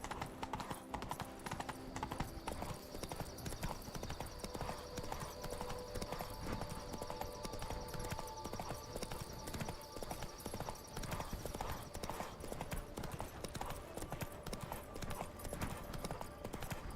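Constant clip-clop of Roach's hooves as the horse gallops on in The Witcher 3, an even, driving rhythm heard close and at moderate level throughout, with faint tonal game sounds behind.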